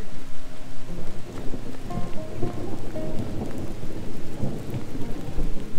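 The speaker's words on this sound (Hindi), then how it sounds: "बारिश फुल हैवी शुरू हो गई है" Heavy rain pours steadily during a hike on a forest trail near Nathia Gali toward Mushkpuri Top, a dense continuous hiss and patter, loud and close, with low rumbling underneath.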